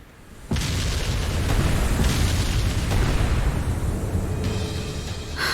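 Ship cannon fire in the video game Ys X: Nordics bursts in suddenly as a heavy boom, then rolls on as a loud, sustained rumbling roar of blasts for several seconds, with no voices.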